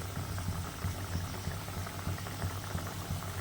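Fish curry, a mustard boal fish jhal, bubbles in extra water in a pan, giving a steady, dense simmering texture with low rhythmic bubbling throughout and no voices.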